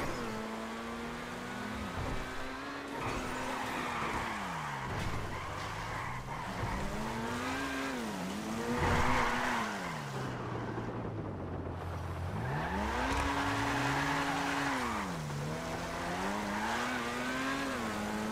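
Lampadati Corsita sports car in GTA Online on a test drive, its engine revving up and down through gear changes with a steady rising and falling drone and tire squeal, close and continuous, no talking.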